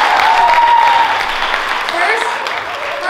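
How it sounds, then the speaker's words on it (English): Audience applause fills a school prom fashion show, a steady dense wash of clapping at moderate loudness lasting throughout, with a faint tone and some voices mixed underneath. "please give them a huge round of applause"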